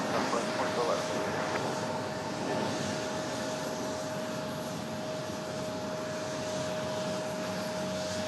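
A JetBlue Airbus A220 jet roars steadily at an airport, a broad sustained engine rush with a faint steady whine, heard from a distance and holding level throughout.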